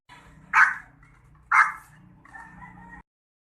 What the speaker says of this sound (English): suddenly your dog barks so loud